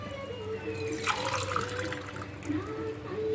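Glasses of water are poured into a cooking pot while making sago and carrot payasam, a brief splashing, gurgling fill with a louder burst midway.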